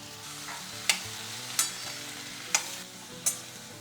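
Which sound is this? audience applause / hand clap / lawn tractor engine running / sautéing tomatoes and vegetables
sautéing tomatoes and vegetables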